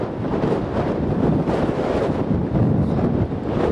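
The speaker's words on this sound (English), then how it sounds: "It's really, really windy up here." Strong wind in Ramsgate after a 47 mph gust buffets the microphone in a constant, loud, rumbling roar that surges and eases slightly but never lets up.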